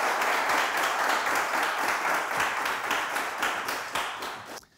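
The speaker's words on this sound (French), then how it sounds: "Vous méritez qu'on vous applaudisse" Studio audience at the French game show "Le Trône" applauding the day's winner: close, dense clapping that stays even and loud, then fades out in the final half second.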